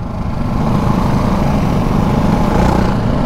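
Close, steady engine drone from a Ducati Hypermotard 698 Mono RVE single-cylinder motorcycle on bumpy roads, a loud, continuous low growl that holds evenly throughout with no talk.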